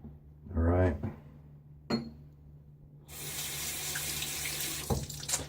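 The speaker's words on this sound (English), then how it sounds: "it's still pretty quick to rinse off my hands" Tap water runs and splashes into a sink as hands are rinsed, a steady hiss starting partway through after someone speaks briefly, ending with a couple of soft knocks.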